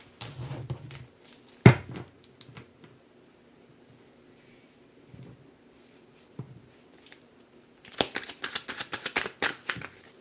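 Tarot cards shuffled by hand, soft scattered card taps and one sharp slap early on, then a quiet pause before a dense flurry of riffling near the end, close and intimate.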